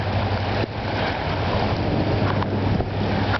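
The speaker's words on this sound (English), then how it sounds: "Whole parking lot is just flooded with water." Rainwater runs across a flooded parking lot during a July downpour in Henderson, Nevada, making a steady, close broadband rush with a constant low rumble and no voices.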